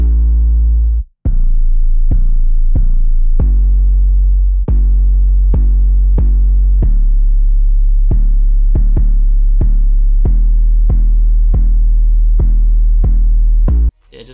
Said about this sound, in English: And then so from there, got the 808.